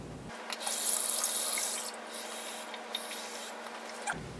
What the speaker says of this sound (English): we can top it up for cold water to the 2 cups